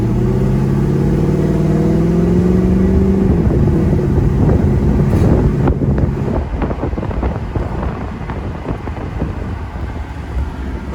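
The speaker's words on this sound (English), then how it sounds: "let's hear the engines for your enjoyment." A 1984 Mercedes-Benz 500SEC's AMG-tuned V8 with full exhaust and headers roars loudly with rising revs, then eases off into a rough rumble buffeted by wind noise.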